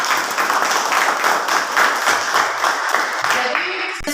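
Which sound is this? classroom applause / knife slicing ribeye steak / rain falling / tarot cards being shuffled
classroom applause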